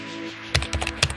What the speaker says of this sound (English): where to get this typing sound from keyboards